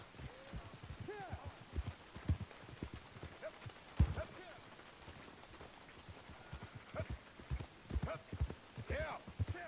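Horse hooves clip-clop in an irregular rhythm on a ranch, moderately close, with occasional louder strikes, while people talk and shout around them.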